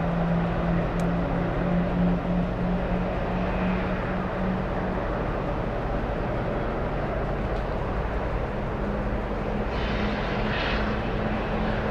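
A Japanese airliner on approach to land, its engines giving a steady, loud, continuous roar with a low drone running throughout and no talk over it.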